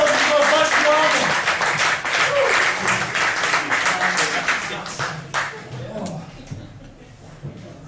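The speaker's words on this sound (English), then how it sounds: "You've got a round of applause and go back to Ireland." An audience at a live comedy mind-reading show claps loudly in a dense burst that gradually fades, with a voice talking over the dying applause.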